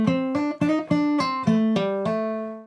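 Fingerpicked guitar solo riff played with legato, notes flowing together with fewer sharp plucks between them, smooth connected phrasing with the final note ringing out, close and alone.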